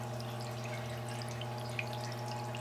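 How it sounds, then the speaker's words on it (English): Coolant streams and drips on a surface grinder in a workshop, a soft continuous trickle and spatter over a steady machine hum, with no talk. "I think we have a fairly decent coolant flow here"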